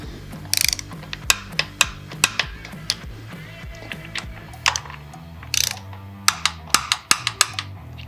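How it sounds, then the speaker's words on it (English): A torque wrench ratchets while breather bolts on a Stealth Air Stinger air cleaner kit are tightened, giving close, repeated mechanical clicks in quick bursts with brief pauses between. "Now we're ready to torque down our breather bolts."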